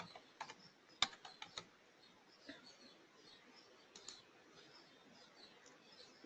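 Someone types on a computer keyboard, tapping out a search word in a browser search bar: soft, irregular clicks with a few sharper keystrokes, quiet and close, with no talking.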